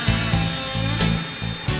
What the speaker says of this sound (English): Mill out the control cavity to a thickness of the control cover.